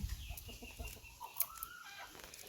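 Chickens cluck and crow outdoors in a rural Thai setting, moderately near with short bursts over steady background noise.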